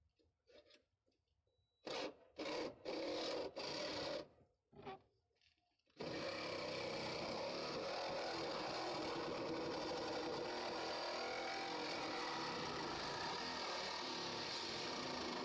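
Battery-powered saw fitted with a Bosch blade cuts around a car strut on a 2006 Chevy Aveo, first a few short bursts and pauses, then a loud, continuous grinding buzz that runs unbroken for the rest of the clip.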